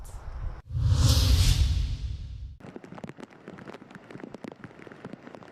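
Heavy rain in southern Japan, first a loud whooshing downpour swell, then a steady patter of drops hitting a hard surface, close by with no voices.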